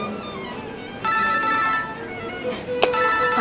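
An electronic phone ringtone for an incoming call starts about a second in and plays steady melodic tones at moderate loudness over quiet room background.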